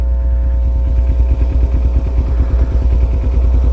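A motorcycle coasts along in gear with the clutch out and no throttle, its engine giving a low, pulsing, mid-pitched putter with clattering, loud and close.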